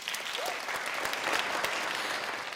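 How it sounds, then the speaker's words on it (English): A room of program participants applauds themselves at a Masters of Success event. The clapping is steady and moderately loud, with a faint voice or whoop rising briefly in the crowd. "So do give yourselves a round of applause"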